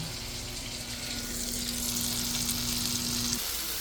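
Kale, red onion and cherry tomatoes fry in butter in a pan, producing a steady close sizzle with a bright crackling hiss and a low hum underneath.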